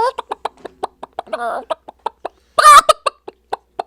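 A man vocally imitates a chicken, producing a rapid run of short, evenly spaced clucks close to the mic, broken by a louder, drawn-out squawk near the end.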